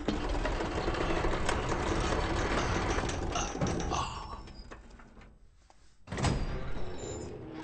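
A creaky door in a horror video game slides open with a loud, rough grinding that runs for several seconds, drops to near silence, then starts again abruptly.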